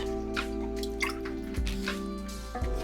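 A small plant corm swished around in a container of water during repotting into semi-hydroponic media, giving soft close drips and gentle sloshing over a steady background hum.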